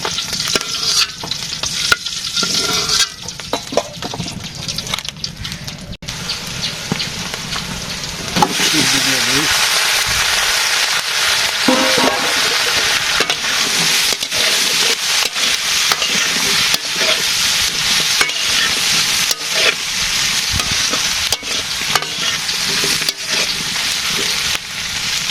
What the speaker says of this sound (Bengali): সবজি কষানো হয়ে গেছে